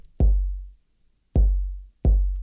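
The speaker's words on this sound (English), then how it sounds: "So for the effects here, I'm using what's called a transient split inside Bitwig," Three electronic kick drum hits processed with Bitwig's transient split, each a punchy attack with a brighter click and a booming, lingering low tail, loud and alone in a sparse pattern.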